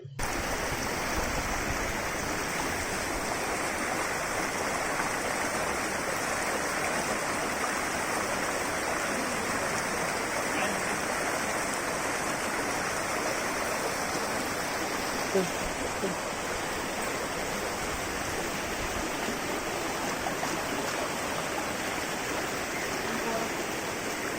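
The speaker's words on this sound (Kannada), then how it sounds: "ಅವೈಜ್ಞಾನಿಕ ಯೋಜನೆಯ ಪರಿಣಾಮವು ನೀರು ರಸ್ತೆಯ ಮೇಲೆ ಹರಿಯುತ್ತಿದೆ" Rainwater runs across a flooded residential road in a layout whose road has turned into a drain, a steady continuous rushing wash heard alone for the whole stretch without any break.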